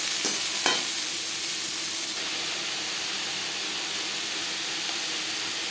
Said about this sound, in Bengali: দু 3 মিনিট নাড়াচাড়া করে নেওয়ার পর